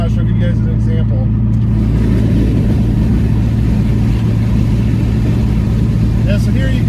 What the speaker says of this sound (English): with the windows down, it's a lot noisier than just the muffler deletes are